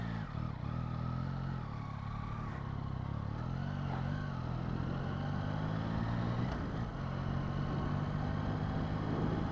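A 2024 Yamaha MT-09 motorcycle cruising on an evening ride, its engine droning steadily and fairly loud throughout with small rises and dips in pitch, wind and road noise mixed in, no talking.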